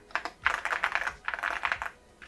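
Fast typing on a Yunzii C75 mechanical keyboard during an anti-ghosting test: dense, clacky keystrokes in two quick runs split by a brief pause, then a final short burst, close up.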